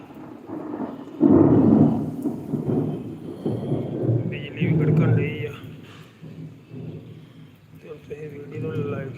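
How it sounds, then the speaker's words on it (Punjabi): Heavy rain roars steadily with low rumbling, and someone talks loudly over it throughout. "ਬਾਰਿਸ਼ ਪੂਰੇ ਜੋਰਾਂ ਤੇ ਹੋ ਗਈ ਆ"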